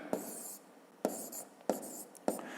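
Numbers written by hand, heard as four separate short pen strokes scratching on paper with brief pauses between them, close and quiet, no voice.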